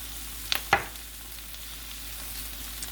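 Chopped onion, poblano and jalapeno frying in a pan give a soft, steady sizzle, broken by a few brief clinks of a utensil near the start.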